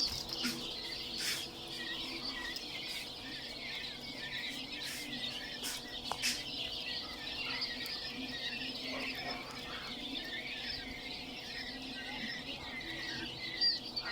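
Quail chicks chirp and squeak in a cage, a busy chorus of thin high peeps with a few sharper calls, steady throughout at moderate distance with faint background hum.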